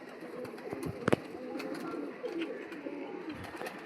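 Pigeons at a fancier's loft, including mukho pigeons, cooing in soft overlapping murmurs throughout, with a few brief louder flutters or knocks near the middle; no clear talk.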